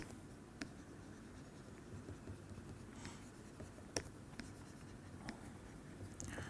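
Chalk writing on a board during a mathematics lecture on unique factorization of ideals, faint scratching and tapping with a few sharper clicks over a steady room hum, with no talk.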